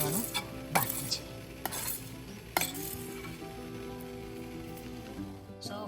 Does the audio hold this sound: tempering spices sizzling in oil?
yes